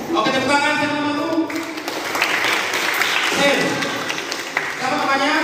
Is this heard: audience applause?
yes